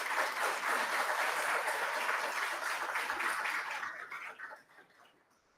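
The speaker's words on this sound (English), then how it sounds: "Let's give these students a round of applause." Audience applause for students at a school board of education meeting, a steady dense wash of clapping that holds for several seconds and then fades out toward the end.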